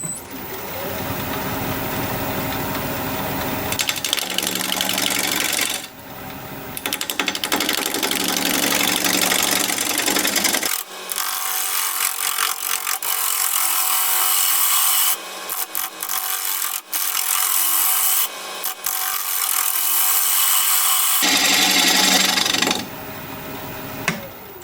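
An acacia live edge bowl spinning on a wood lathe at 710 RPM, with a loud, continuous scraping hiss from the cutting tool that cuts in and out in long passes, close and dominant.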